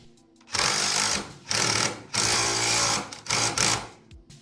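A power tool torques down a nut during a lift kit install on an 80 Series Land Cruiser, running in four close, loud, buzzing bursts separated by short pauses.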